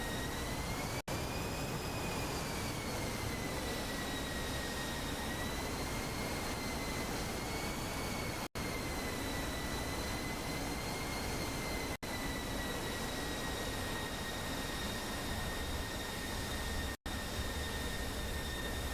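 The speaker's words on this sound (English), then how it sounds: "And we have Tab in his F-16 coming along." Jet engine drone of an F-16 coming in to land in a flight simulation game, a steady, continuous whine with a slowly shifting pitch, heard alone with a few brief cuts in the sound.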